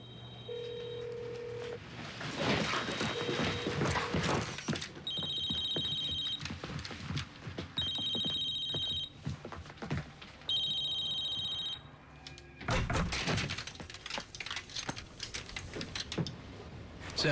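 A telephone rings in a series of repeated electronic tones inside a house under police search, mixed with faint movement and clicks and no clear talk.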